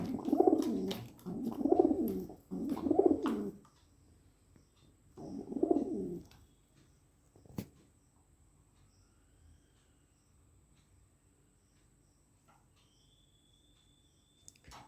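A pet bird gives a short run of soft, low cooing calls, three in quick succession and then one more after a pause, close by in a quiet room, followed by faint background sounds and a brief click.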